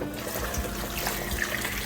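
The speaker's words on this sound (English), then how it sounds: "and pour some cold water in to sink the peas." Cold water being poured into a cooking pot of stew peas, a short, close, steady trickling splash with no talk.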